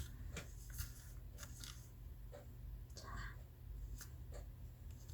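Tarot cards are drawn and laid out for a reading, giving soft, brief rustles and slides in small bursts over a low steady hum, with quiet whispery handling between the strokes.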